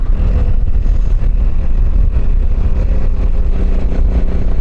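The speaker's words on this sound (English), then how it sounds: "A little wheelie action, start the vlog" A motorcycle engine roars loud and close as the rider pulls a wheelie, a dense low rumble mixed with wind buffeting that holds constant throughout.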